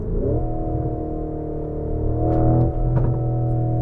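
A Lamborghini Urus SE engine drones at a steady hum, then blips during a downshift in a tunnel, with a couple of short, sharp backfire cracks near the end, loud and close from inside the cabin.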